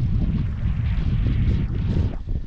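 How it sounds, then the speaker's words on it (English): Strong wind gusting on a coastal path near a lighthouse on the Coast to Coast walk, buffeting the microphone in a continuous loud roar that surges and dips throughout. "it's a bit windy."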